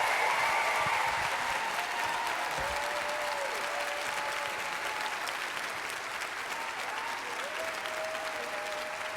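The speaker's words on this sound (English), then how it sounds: "Please give a warm Pod Save America applause to Barbara Lee." A live audience claps for a congresswoman, a dense, sustained round of applause that holds steady throughout with a faint voice in the background.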